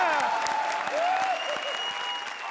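Studio audience applause on a televised comedy show, a dense wash of clapping that holds steady for a couple of seconds at moderate distance, with a musical sting sounding over it.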